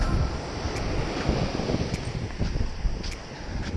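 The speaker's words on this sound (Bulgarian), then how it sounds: "Морето е доста бурно и ще се пробвам по реката малко." Rough Black Sea surf at the Veleka river mouth, a steady broadband roar of breaking waves with heavy wind buffeting the microphone and a few faint sharp ticks, no voices.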